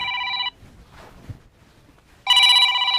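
A telephone rings in a village home with a call from a brother-in-law: a loud electronic trilling ring, a short pause of near silence, then the ringing starts again just as loud.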